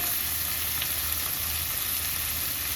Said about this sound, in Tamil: ஃப்ரைடு சிக்கனை வந்து நல்லா வறுத்துட்ருக்குறேன்.